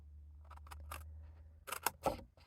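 Scissors snipping through paper cardstock for a bear paw treat box, several short crisp cuts in quick succession near the end, with a steady low hum underneath.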